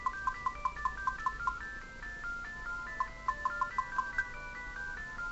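A phone ringing in the Mother: CogDis video game: a chiptune-style jingle of repeated quick, bright electronic notes in two bursts, fairly faint and alone, with no talk.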